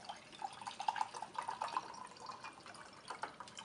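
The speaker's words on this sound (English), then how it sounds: "we are going to add 300 milliliters of regular water to the other beaker" Regular water pours into a lab beaker, a light trickling and gurgling stream close by with a few drip-like plinks and no talk.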